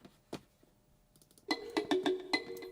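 A wood tongue tuned percussion instrument is played alone in a studio, a few sparse soft knocks followed by a quick run of bright, ringing wooden notes close to the listener.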